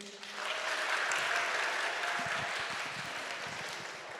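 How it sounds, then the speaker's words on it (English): An audience claps as a practice cue, starting just after the opening and then holding as a dense, steady wash of many hands that fades a little toward the end. No voices are heard. "as soon as it hits 0, I want you to clap"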